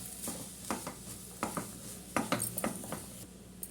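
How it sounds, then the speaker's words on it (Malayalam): A spoon scrapes and stirs grated coconut through chicken curry in a pan, giving a run of close, irregular scrapes and clatters over a faint sizzle, with no one talking. "ഇനി നമുക്ക് ഈ തേങ്ങ ഇട്ട് കൊടുക്കാം നല്ലോണം അത് മിക്സ് ചെയ്ത് കൊടുക്കാം"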